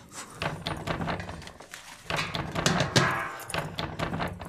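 A child pounding on a house door in a Tamil family comedy scene, with a series of loud irregular thumps and knocks close by, bursts of banging separated by brief pauses, with some background voices.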